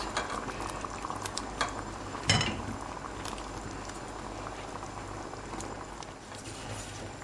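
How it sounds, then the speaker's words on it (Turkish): A pot of eggplant mixture bubbles at a steady boil, continuous gurgling and popping, close and moderately quiet, with one brief clunk partway through. "Evet, karışımımız kaynadı."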